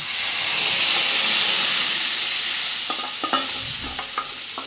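Roast spices mixed with sour yogurt, chili powder and salt sautéing in a hot pan, a loud continuous sizzle and hiss with occasional spatula scrapes and clinks toward the end.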